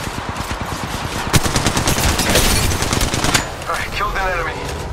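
Automatic weapon fire in the mobile battle royale game Apex Legends Mobile: rapid rhythmic bursts of shots, loud and close, followed by sharper clattering and ricochet-like effects near the end.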